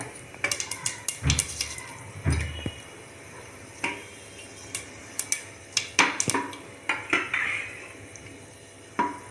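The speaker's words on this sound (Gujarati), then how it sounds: "રાઈ મેથી ફૂટે ત્યાં સુધી થવા દેવું." Mustard and fenugreek seeds pop and crackle in hot oil, sharp irregular snaps scattered over a quiet sizzle, close by.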